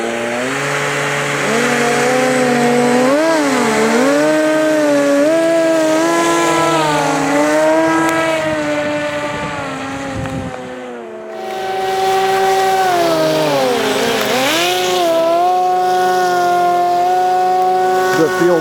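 A radio-controlled hovercraft runs outdoors in wind with a loud, continuous motor whine whose pitch rises and falls as the throttle changes, briefly easing off near the middle before surging back.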